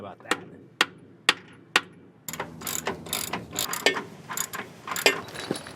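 A ratchet wrench clicks as it turns a nut on a bolt of a Belltech lowering kit on a C3500 truck, first four sharp separate clicks, then a rapid busy run of ratcheting and metal clatter up close.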